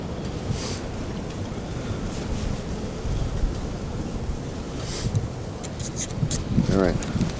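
Steady, rough wind roars and buffets against the microphone outdoors on a very windy, cold day, loud and continuous throughout, with a brief soft rustle near the end.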